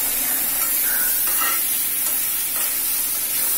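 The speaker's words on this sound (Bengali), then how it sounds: "এইভাবে ওপর নিচ করে নাড়তে হবে না হলে লেগে যাবে" Hilsa fish and taro stems fry in spiced oil in a pan while being stirred and turned over, a continuous loud sizzle with scraping stirring strokes.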